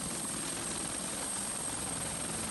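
Helicopters on evacuation flights to Mimika in Papua drone with a constant steady rotor and engine roar, unbroken and fairly loud, with no talk.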